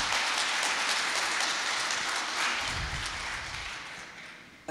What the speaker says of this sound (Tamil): முதல்ல உங்க எல்லாருக்கும் ஒரு கைத்தட்டல் நான் கொடுக்க விரும்புறேன்.